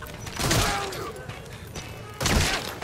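Gunfire in Metal Gear Solid V: The Phantom Pain, two loud bursts of impacts and crashes near the start and end, with a rumbling game background between them.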